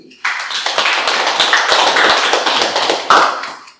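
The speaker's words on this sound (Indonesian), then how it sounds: "Tepuk tangan untuk Andi" Applause for a student during a university class lesson: a room of hands clapping steadily and fairly close for a few seconds, with a brief louder swell near the end before it fades out.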